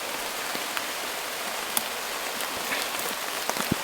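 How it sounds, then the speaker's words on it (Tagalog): Heavy rain pours down hard and steadily outdoors, a dense wash of close drumming with a few sharper drops spattering near. "Sobrang lakas ng ulan."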